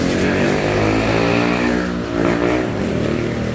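A small outboard boat motor, model MOB830G, runs steadily and loudly up close, its pitch wavering slightly as the throttle shifts, with no voices.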